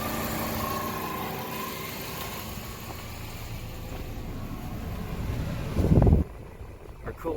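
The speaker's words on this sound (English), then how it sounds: "And both of our fans are on here." A 2003 Subaru Forester that is overheating, idling with both radiator cooling fans running, a steady close whir and hum that swells briefly near the end, with a voice speaking over it.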